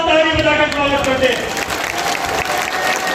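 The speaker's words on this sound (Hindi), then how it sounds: "जोरदार ताली बजाकर स्वागत करते" A large outdoor crowd at a farmers' rally at Tikri Border claps loudly and continuously in welcome for foot marchers, with a voice carrying over the applause.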